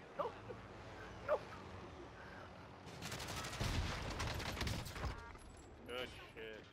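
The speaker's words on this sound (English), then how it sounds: "They're fucking torching it. They're shooting it." Sustained gunfire in the shooter game Warzone pours onto a helicopter, a loud dense barrage of rapid shots lasting several seconds after a quieter opening with faint sounds.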